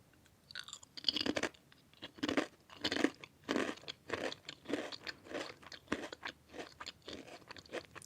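Tiny Japanese crisps chewed close to the mic, with regular, rhythmic crunching bursts roughly every half second, each one crackly and distinct, with no voices.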